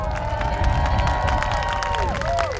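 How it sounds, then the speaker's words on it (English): Applause and cheering from a crowd at a kindergarten and sixth grade promotion ceremony at a charter school, loud and sustained throughout, with children's shouts and whistling mixed in. "Round of applause."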